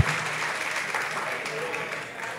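A studio audience on a comedy show applauds for a guest, a moderate wash of clapping that fades slightly, with voices talking over it.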